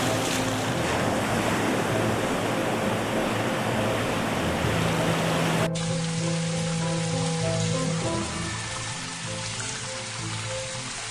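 Loud, constant roar of storm surf and crashing waves carrying debris with heavy wind noise, during severe flooding in Karadeniz Ereğli, Turkey, continuing steadily with a slight drop in intensity toward the end.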